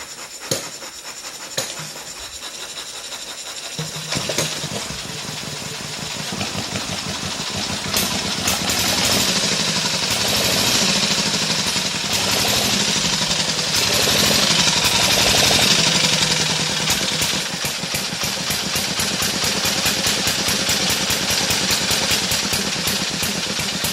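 A 1913–1914 Elk motorcycle engine coughs through a few uneven firings, then catches and runs loud and close in a fast, steady chugging rhythm that holds to the end.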